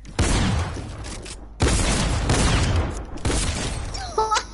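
Video game gunfire erupts in dense, loud volleys, two long bursts of rapid shots separated by a short gap, with a few sharp metallic clicks near the end.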